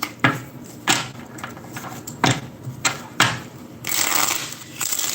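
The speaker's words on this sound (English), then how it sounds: "Get a couple of good shuffles." A deck of tarot cards is shuffled by hand, several sharp slapping snaps at uneven intervals followed by a longer fluttering riffle near the end, close and clear with no talking.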